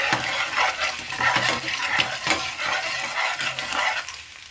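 Eggs sizzle and fry in curry masala in a pan, a steady crackling hiss close by with scraping stirring strokes throughout and no voices.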